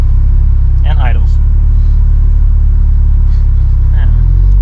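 A Subaru STI Type RA engine idles with a steady low rumble throughout, close and continuous, while voices talk briefly over it.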